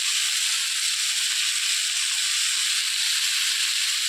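Potatoes frying in a pan with turmeric powder just added, a steady bright sizzle and hiss that stays even and close throughout, with no voices.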